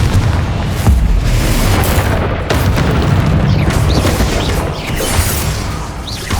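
Bombarda and Confringo spell explosions in the video game Hogwarts Legacy: loud, continuous blasts and booming bursts with sharp transient hits, sustained throughout at high level.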